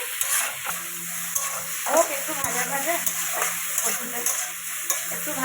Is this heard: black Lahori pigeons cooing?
no